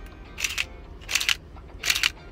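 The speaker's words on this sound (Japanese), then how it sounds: "こんな感じのシャッターですね。" A Nikon F90X film SLR camera fires its shutter three times in succession, each a crisp mechanical snap with a quick double-click, spaced evenly and heard alone.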